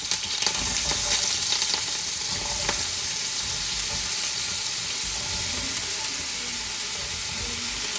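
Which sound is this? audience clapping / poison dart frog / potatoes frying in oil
potatoes frying in oil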